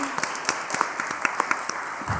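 An audience applauding at a talk event, a short burst of scattered claps over a roomy hiss, moderately loud and not in rhythm.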